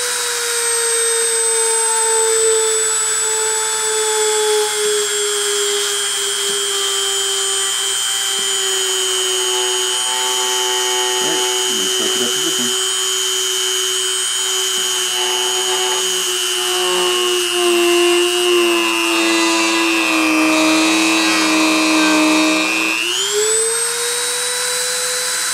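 CNC spindle spinning at 30,000 RPM during a deposition run, a steady high-pitched whine with strong tonal layers that holds throughout, with brief rattling contact noise near the middle and a pitch dip and rise near the end.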